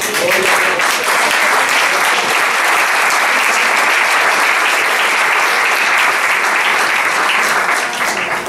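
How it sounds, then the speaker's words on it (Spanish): Church congregation at a Spanish-language sermon bursts into loud, sustained applause, a dense even roar of clapping filling the whole stretch. "Un aplauso al Señor."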